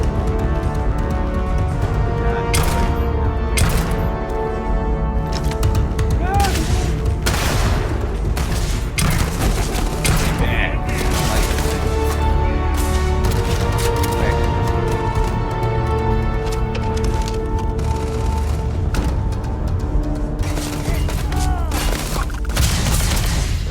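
A rifle firing explosive rounds in the Starfield video game crackles in repeated sharp bursts and booms throughout, over a steady tonal background.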